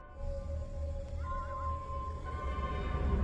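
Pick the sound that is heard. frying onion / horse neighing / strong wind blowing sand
horse neighing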